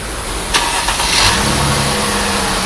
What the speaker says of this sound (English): right now we start the car.